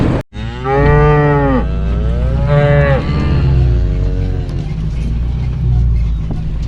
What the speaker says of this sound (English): So I'm gonna go feed some cows.